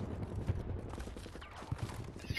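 Gunfire during Battlefield 2042 multiplayer: a rapid rattle of distant and mid-range shots with a few sharper, heavier reports, set against a rumbling battlefield background.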